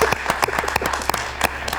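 An audience claps in a room, with a short burst of quick, uneven handclaps that is fairly close and stands alone, with no talk over it.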